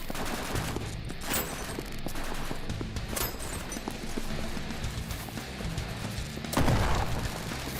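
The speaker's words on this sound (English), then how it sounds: "Give me some covering fire." Dense gunfire rolls through a video game firefight, bursts and shots overlapping continuously with a louder burst near the end, forming a steady backdrop to the action.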